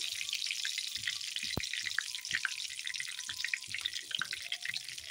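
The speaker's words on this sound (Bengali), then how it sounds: "এখন দিয়ে দিব জিরা ফোড়নে, তেজপাতা দুটো, আর আমি আজকে দেবো একটু অন্যভাবে কাঁচা লঙ্কা" Cumin seeds, two bay leaves and green chilies fry in hot oil, giving a steady close crackling sizzle with scattered sharp pops, and no voices.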